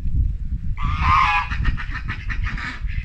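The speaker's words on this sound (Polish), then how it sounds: "No, cztery gęsi zostały." Geese in a farmyard with ducks give a run of loud, close honks that starts partway in and repeats rhythmically over a low rumbling background.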